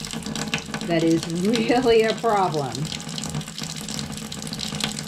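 Water runs from a faucet in an RV whose hot water side has low pressure, a steady wash of flow heard beneath a person talking in the foreground.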